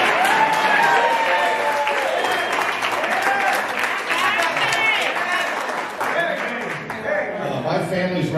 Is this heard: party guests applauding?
yes